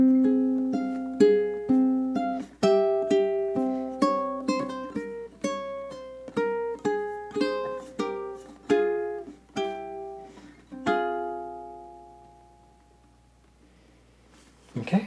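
Ukulele plucks a spooky melody in crisp, close notes that gradually slow down and ring out to a fading finish, played alone.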